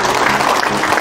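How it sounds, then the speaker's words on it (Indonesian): An audience applauds teachers at a school learning festival in Bandung, a continuous dense clapping with no breaks. "mari kita aplaus bersama untuk guru penggerak kita"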